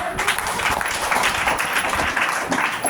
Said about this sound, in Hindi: तो एक बार फिर जोर ताली में लिए।